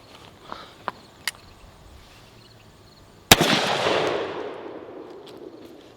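A Rossi Brawler .410 pistol loaded with number 6 shot fires a single sharp, loud blast outdoors at close range, followed by a long fading rumble, after a few faint knocks.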